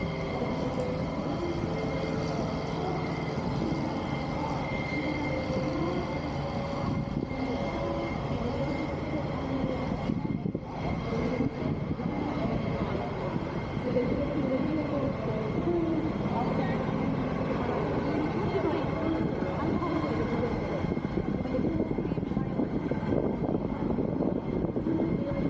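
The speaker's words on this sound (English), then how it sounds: "Smaller 737, these Boeing aircraft getting ready to roll." Boeing 737 aircraft engines run at the Sun 'n Fun 2024 airshow, a steady, loud roaring drone that continues unbroken throughout with broad ambient outdoor noise.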